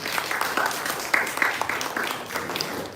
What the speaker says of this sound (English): Please give some applause.